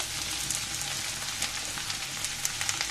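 Onions fry in hot oil with a soft, steady sizzle and scattered tiny pops, fairly quiet and continuous throughout.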